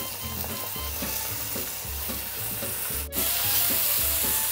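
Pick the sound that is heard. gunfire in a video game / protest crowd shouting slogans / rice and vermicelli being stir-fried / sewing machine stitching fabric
rice and vermicelli being stir-fried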